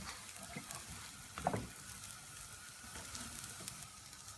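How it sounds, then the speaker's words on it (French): A savory crepe browns on its second side in a hot pan, giving a soft, continuous sizzle with a brief louder scrape or stir partway through, otherwise steady and quiet with no talking. "On laisse dorer le deuxième côté."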